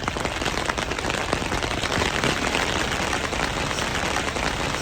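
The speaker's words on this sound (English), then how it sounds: "it started raining more" Steady rain pours down at a vintage motorcycle event at Mid-Ohio, a dense, even hiss of drops on surfaces filling the whole stretch without pause, close and fairly loud, with no talking.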